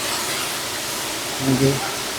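Steady broadband rush of a waterfall at Mankulam in Kerala, one of the area's many falls, fills the scene evenly. A short voice rises briefly above it near the end.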